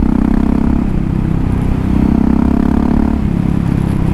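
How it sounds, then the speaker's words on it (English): A Husqvarna 701 motorcycle with a Kemimoto universal slip-on muffler idles and revs up close, a loud, deep, throbbing exhaust rumble that swells and eases in repeated blips. "I guess maybe that's just how these bikes sound with a louder, more open pipe on them."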